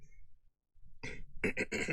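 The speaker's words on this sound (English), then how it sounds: "Sorry, the coughing." A quick cluster of throaty coughs, close to the mic, a few rough bursts in a row with a short pause before them.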